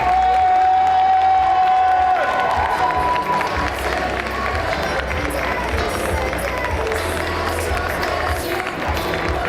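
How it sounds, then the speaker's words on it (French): Audience at a cosplay contest during a French fan convention applauds and cheers the contestants, a dense, steady wash of clapping and crowd noise running throughout, with voices mixed in and a brief tone early on. "vous pouvez les applaudir parce que l'exercice qu'ils sont fait est loin d'être facile"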